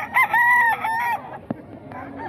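A gamecock rooster crows once, loud and close, a drawn-out call lasting about a second, followed by a sharp knock and faint clucking.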